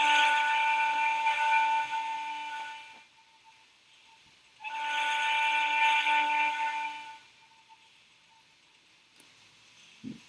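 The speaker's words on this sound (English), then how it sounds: "this is more echo version of the previous whistle you already heard," A homemade train whistle with an added echo effect, two long sustained multi-tone blasts, each trailing off into reverberation, followed by faint quiet.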